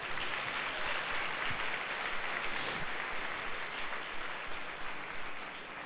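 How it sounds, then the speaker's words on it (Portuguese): Church congregation at a Sunday service clapping together, a steady dense wash of applause from many hands filling the room, fairly distant and sustained without pause; no talking. "Então diga amém e dê um aplauso ao Senhor Jesus."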